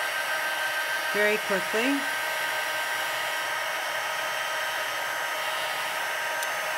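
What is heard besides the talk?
heat embossing gun blowing hot air on card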